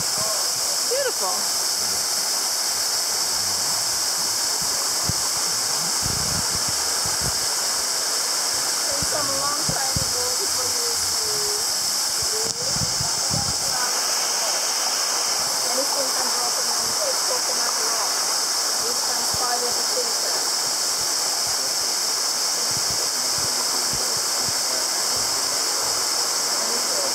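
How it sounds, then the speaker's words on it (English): Diamond Falls near Soufriere, St. Lucia, pours with a constant, loud broadband roar throughout, while voices talk faintly underneath. "This is Diamond Falls near Soufriere."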